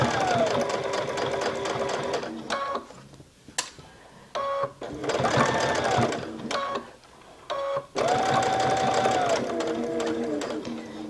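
Domestic sewing machine stitching along the folded edge of a stretch headband, running in three long bursts of rapid whirring with short pauses between, close and clear, no talking.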